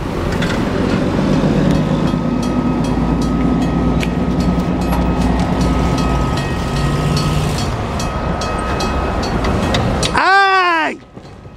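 A northbound CSX grain freight train rolls past at close range in Marion, Ohio, a loud continuous rumble with wheel clatter, ending in a sharp horn blast as it clears.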